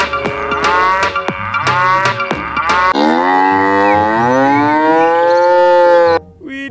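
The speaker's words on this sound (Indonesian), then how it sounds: "lihat teman-teman, ternyata ini sapi perah" A dairy cow lets out a long, loud, close moo that rises and holds before cutting off, preceded by clattering knocks and bleating tones.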